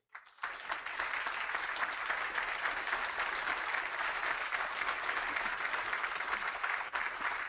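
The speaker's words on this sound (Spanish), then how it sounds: "Sentís como te aplauden." Audience applauding a girl at a papal event with children, a dense, continuous roar of clapping that starts abruptly and holds steady and loud, with no talking over it.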